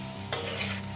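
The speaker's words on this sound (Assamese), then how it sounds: "এতিয়া ভাজাখিনি ভালদৰে লাগক, আলুখিনিও ভজা যাওক একেলগে" Potatoes frying together with other ingredients in a pan, a brief, faint, soft sizzle with a slight stirring scrape partway through, heard alone without any voices.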